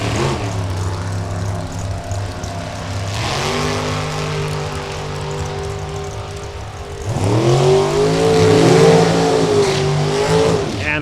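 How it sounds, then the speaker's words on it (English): A drag race car at a race event at Topeka roars loudly as its engine revs and accelerates down the strip, the pitch rising through gear changes in two surging runs, with no talk over it. "Let you listen to this car while the announcer's not talking."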